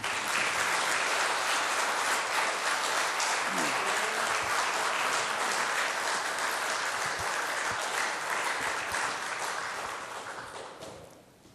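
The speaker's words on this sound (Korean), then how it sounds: "나오실 때 큰 박수로 이렇게 맞이해 주십시오." A church congregation gives loud, sustained applause as the pastor comes forward to preach, a dense wash of clapping from many hands that holds steady and then tapers off at the end.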